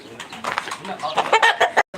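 Domestic birds kept at a farm-like yard cluck and chirp in quick close bursts, mixed with a voice talking nearby.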